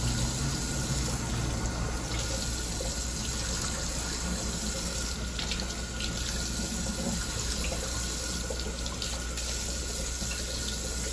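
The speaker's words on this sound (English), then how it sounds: "Just rinsing." Running tap water pours steadily over lavender and basil seeds being rinsed, a continuous close splashing hiss without talk for the full length.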